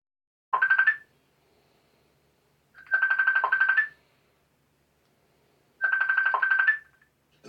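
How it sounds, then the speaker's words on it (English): A telephone rings in three separate bursts of electronic trilling, each about a second long with gaps of silence between, close and clear with no talk over it. "I'm gonna answer this phone."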